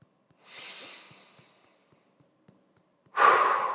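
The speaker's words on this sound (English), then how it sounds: "it's okay to take another breath" A person draws a slow audible breath in, then after a quiet pause with soft ticks lets out a louder, close breathy exhale.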